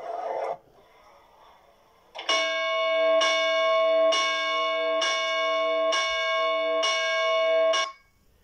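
Church bells ring out in a series of about seven evenly spaced, resonant strokes, loud and close, after a brief quieter moment.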